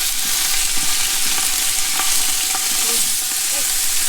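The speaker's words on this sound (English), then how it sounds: "And then you're just going to kind of stir it up." Hamburger meat browning in a pot for chili, with a steady soft sizzle and occasional scraping, stirring clinks and taps as the meat is turned.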